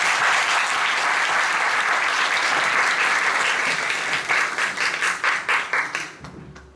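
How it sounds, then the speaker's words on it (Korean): A lecture audience claps to welcome two speakers to a talk, first a dense, sustained wave of applause, then thinning into scattered individual claps that fade out near the end. "큰 박수로 두 분 모시겠습니다"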